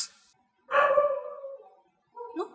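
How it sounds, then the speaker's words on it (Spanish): A single indoor dog gives one drawn-out bark or yelp, moderately near, followed after a pause by a shorter second yip, with quiet gaps around them. "Ese perro va a ladrar en mi video"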